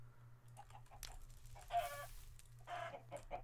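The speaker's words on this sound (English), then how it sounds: "Oh, hey, chickens." Chickens in Minecraft cluck softly in a quiet scene, a few short calls and one louder squawk, with a low steady hum running underneath.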